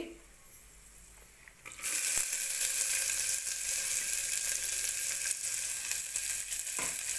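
Chana dal and onion sizzle and fry in hot oil in a cooker, a loud, steady crackling hiss that starts abruptly as they hit the pan and carries on continuously.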